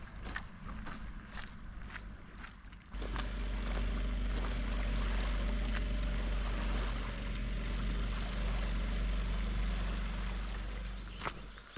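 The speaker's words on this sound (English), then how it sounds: "We can see a pleasure cruiser." A pleasure cruiser on a Highland loch gives a steady low engine drone and wash that swells in after a few seconds and holds loud and close, over faint wind and water.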